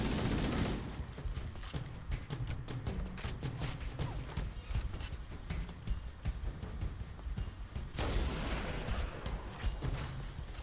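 Sustained gunfire from a Halo MCC campaign battle, a dense stream of rapid shots with heavy low booms and no let-up across the whole stretch, growing louder and harsher near the end.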